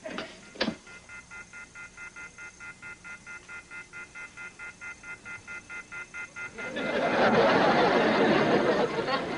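Telephone being dialed: a steady series of evenly spaced dial tones pulsing in rhythm for several seconds, then giving way to louder broadband noise near the end.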